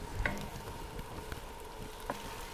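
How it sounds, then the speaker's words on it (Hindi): Egg slowly stirred and scrambled in a pan for egg fried rice, a soft, faint sizzle with occasional spoon taps and scrapes against the pan, no speech. "अंडे को हमने बहुत ज़्यादा सख्त नहीं करना, इसको स्लोली हम हिलाते रहेंगे।"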